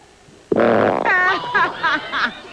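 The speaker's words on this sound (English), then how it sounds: "Now, right now, he farts" A fart on a studio talk show, one loud close blast followed by a few sputtering, buzzy bursts, with no talk over it.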